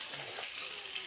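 Fish frying in a pan for a Bengali fish curry: a faint, steady sizzling hiss runs without a break and nobody speaks.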